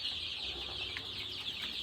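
A flock of BV380 chickens on a poultry farm clucks continuously, a steady, fairly close chorus of overlapping calls with no talking.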